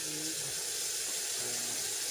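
Water is poured into a cooking pot of Filipino chicken tamarind soup (sinampalukang manok), a steady faint trickle and wash lasting about two seconds with no voices.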